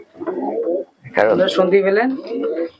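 Madras and Malbai pigeons coo loudly and close by in a loft, in repeated throaty bursts with a short pause between them.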